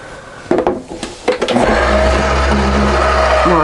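Embossing folder fed through a die-cutting machine while crafting a Christmas dragon gift box: a few brief scraping knocks as it goes in, then a steady, loud mechanical rolling hum with low grinding tones.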